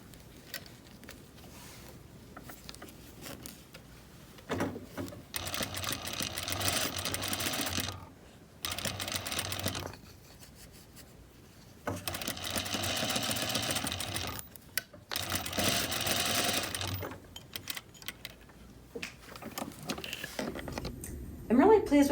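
A sewing machine stitches welt cord onto a pillow in several bursts of steady rapid whirring, separated by pauses with fabric handling, snipping and a person talking quietly nearby.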